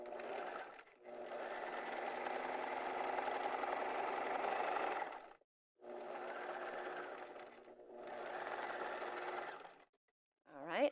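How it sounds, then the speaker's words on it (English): A sewing machine stitches a jelly vinyl zipper pouch in long steady runs, pausing briefly between passes, loud and close with a whirring motor hum. "now I'm going to flip it around and I sew from the bottom to the top"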